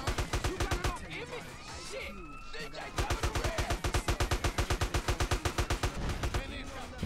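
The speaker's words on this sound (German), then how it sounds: "Jetzt wird einfach drauf geschossen." Rapid automatic gunfire in GTA: San Andreas rattles in quick, evenly spaced bursts, close and loud, with a brief pause before it resumes at a steady rhythm and a voice talking under the shots.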